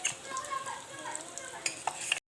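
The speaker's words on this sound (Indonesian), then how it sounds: "Tempe gembus sudah digoreng." Tempe gembus fries in a pan while being stirred, giving a close, steady sizzle broken by a few light clinks and scrapes against the pan.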